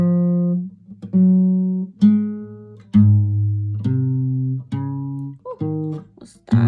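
An electric bass guitar plays chord tones joined by passing notes, one clear plucked note after another at a steady pace, each ringing out before the next, loud and close with no talk.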